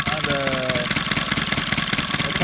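A Saito FA-300T gas model engine, converted to run on a 20:1 fuel mix, idles steadily at low RPM, giving a close, even, throbbing drone that carries on without a break.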